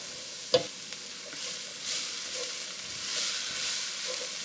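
Flour for shrimp and cheesy grits cooks in a pan with a close, continuous sizzle and soft scraping as it is stirred around. A sharp clack comes near the start, and no one speaks.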